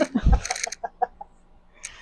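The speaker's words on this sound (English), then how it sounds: "My chickens are walling out there." Chickens cluck outdoors in a short burst of several calls, loudest at the start and then trailing off into sparse, fainter clucks with a last small cackle near the end.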